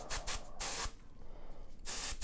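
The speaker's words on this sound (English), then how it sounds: "just a little bit more spray, a little bit more spray." Spray paint hisses onto a miniature in bursts: several quick short sprays, a pause, then another burst, close and loud.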